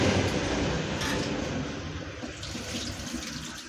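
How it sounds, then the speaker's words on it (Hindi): Tap water runs in a steady, close rush as khichdi rice and lentils are washed, with faint splashing variations throughout. "अब धो लेती हूँ ये खिचड़ी"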